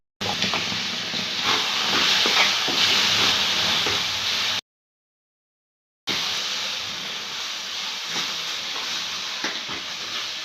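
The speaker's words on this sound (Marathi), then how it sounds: "आता आपल्याला हे केळाचं मिश्रण टाकून घ्यायचं" Mashed ripe banana mixture sizzling in a hot pan for a sweet fasting barfi, a continuous close hiss with faint scraping, cut by a brief silent gap before the sizzle resumes.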